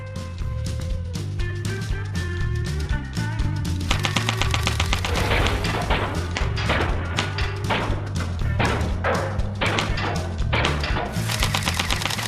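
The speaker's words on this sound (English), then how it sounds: "You get 100 BBs, fully automatic BB gun, and you have to shoot out the entire red star." A fully automatic BB gun fires at a paper star target, starting with a few scattered shots, then breaking into rapid, sustained bursts of sharp ticking pops, close and loud, with brief pauses between strings.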